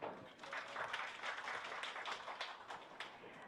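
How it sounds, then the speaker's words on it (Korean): A seated audience at a Gyeonggi Province roundtable on improving the used car market gives a steady burst of hand clapping for an introduced guest, moderately close and continuous throughout. "한 분 한 분 소개 시에 박수 부탁드립니다"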